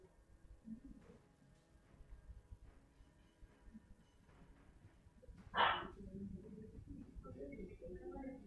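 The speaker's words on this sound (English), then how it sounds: "You can hear my dog." A dog barks a few times in the background over quiet game commentary sounds, with one louder sharp bark standing out midway among fainter yips.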